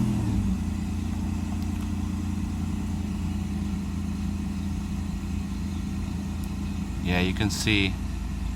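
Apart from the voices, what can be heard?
Mercedes 600SL engine revving during Egas throttle module test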